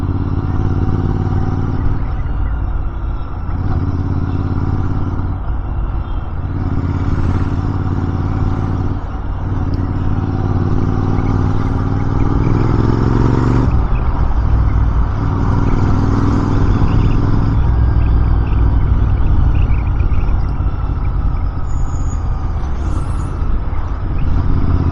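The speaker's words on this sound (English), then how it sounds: "The engine braking on this motorcycle is fabulous." Motorcycle riding along a winding, green hillside road in Kerala with engine braking, giving a steady loud engine drone and wind rush with shifting pitch as it slows into bends, and no talking.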